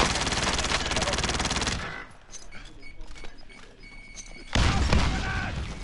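Rapid automatic gunfire in a video game, loud dense bursts at the start and again near the end, with a quieter stretch of scattered distant shots and thuds between them.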